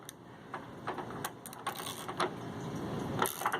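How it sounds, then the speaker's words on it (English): A ratchet and socket snug down a water heater's heating element, giving a few soft, uneven bursts of clicking close by against a steady background hum. "Take my ratchet and socket."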